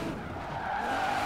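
Tires skid in a steady, loud screech as a car drifts in the racing video game Forza Horizon 4, with the engine droning underneath and no talk.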